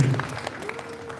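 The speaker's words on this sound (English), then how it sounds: "Now let's warmly welcome him by giving a big round of applause to Mr. T, ladies and gentlemen." Audience applause welcoming a speaker to the stage at a talk show, a brief soft patter of clapping that fades quickly.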